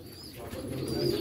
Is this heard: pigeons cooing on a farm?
yes